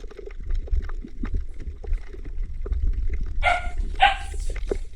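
Two short dog barks ring out near the end, over a steady low rumble of water and wind, with faint scattered knocks, by the sea.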